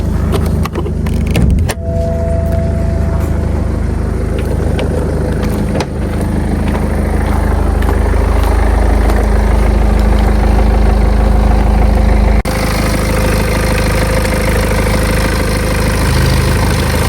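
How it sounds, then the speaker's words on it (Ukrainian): A used BMW 320 with 240,000 km on it idles smoothly and steadily, a low even hum with no revving, continuous throughout. "Мотор працює рівно, тихенько працює."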